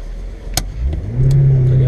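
A Mongol Rally car's engine rises into a loud, sustained rev as the car pulls away, after a few short knocks and clicks, with people talking over it.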